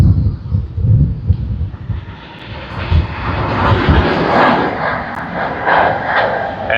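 Virgin Australia flight VA2 in 25th anniversary special livery arriving at Sydney Airport, jet engine roar building from gusty, rumbling wind noise into a loud, steady approach sound.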